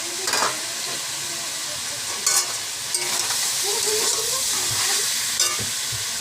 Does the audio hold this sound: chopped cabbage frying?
yes